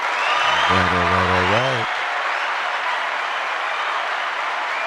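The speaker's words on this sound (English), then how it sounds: "Let's give Dank Nation a round of applause." Applause from an audience during a talk show, a broad steady wash of clapping that carries through the whole moment, with one short spoken word near the start.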